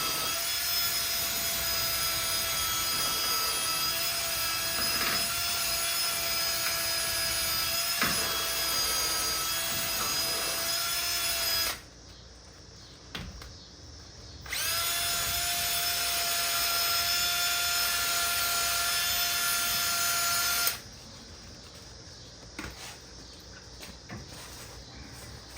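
A power tool scrubs caked gunk off the bolt heads on a 2005 Ford Explorer Sport Trac, a steady high whine running loud and continuous with two brief pauses where it stops and restarts.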